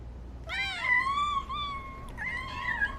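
A cat meows several times up close, with drawn-out, wavering cries that rise and fall, then a short pause and a final plaintive meow.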